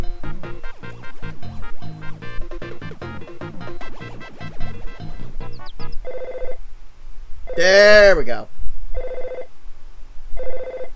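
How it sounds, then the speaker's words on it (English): Telephone ringing in a video game, several electronic ring bursts in a regular pattern after a stretch of game music, with a brief voice heard early on. "No, that's the phone."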